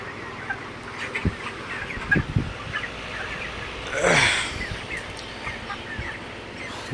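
Broiler chickens on a poultry farm give scattered clucks and one louder squawk, surrounded by steady barn background noise and no talk.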